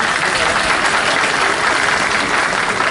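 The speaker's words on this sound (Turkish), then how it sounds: "Bir alkış yapın şimdi işte" Loud, thick applause from a crowd at the opening ceremony of a service complex in Darıca, a continuous wash of clapping close by with no pauses.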